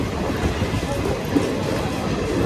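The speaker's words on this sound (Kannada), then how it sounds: "ಟ್ರೈನ್ ಬಂತು" A train pulls into a station with a steady, continuous rumble of rolling wagons and faint wheel clatter. The sound stays even and fairly loud throughout, with no voices.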